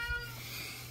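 A house cat gives a single short, faint meow indoors, brief and alone against a quiet room.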